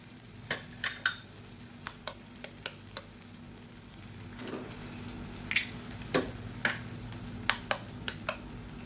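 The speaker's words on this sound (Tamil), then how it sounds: "இது நல்லா இப்படி ஓரமாக ஒதுக்கி விட்டுட்டு 2 முட்டையை உடச்சி ஊற்றிக்கலாம்" Eggs cracked and poured into a hot pan beside softened cauliflower while frying masala rice, with a steady sizzle broken by a series of sharp clicks and taps of shell and spoon against the pan.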